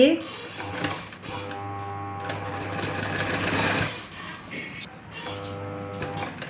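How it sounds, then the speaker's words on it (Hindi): Sewing machine stitching three sides of a pocket onto baby shorts, a steady whirring drone with brief pauses, close and loud, while a person talks over it. "तीनों हिस्सों पे सिलाई लगानी है। लगा रहे हैं हम"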